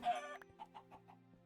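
Minecraft chickens cluck in a game world, a short series of about five soft, evenly spaced clucks following a brief busier burst, over a steady low hum.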